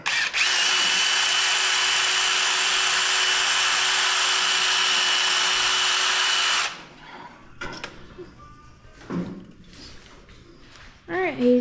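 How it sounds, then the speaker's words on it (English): A power drill runs steadily and loudly for about six seconds, drilling out a fill tank during a race car rebuild, then stops, followed by voices and scattered workshop clatter. "He's just struggling to drill these out."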